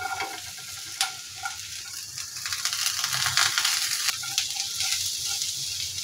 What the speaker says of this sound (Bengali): তো কাঁকরোলগুলোকেও আমি ভাজা ভাজা করে ভেজে নেব।